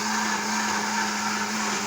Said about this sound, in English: turn on a blender.